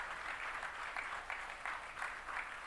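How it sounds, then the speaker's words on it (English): A seated audience at a live medical event applauds, clapping steadily and densely throughout at a moderate, fairly distant level, with no talk. "I think we can rise in our seats and give a huge round of applause"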